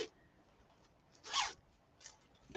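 A zipper runs along a hooded garden garment, one clear, fairly close rasping pull in the middle, then a softer, shorter zip near the end, against a quiet room.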